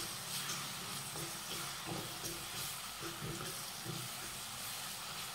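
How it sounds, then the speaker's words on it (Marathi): Green chili and garlic thecha sautés in a pan, giving a steady broadband hiss and sizzle with faint clinks, quiet and continuous throughout. "आणि आता याचा कच्चेपणा दूर होईपर्यंत ह्याला छान परतून घेऊयात।"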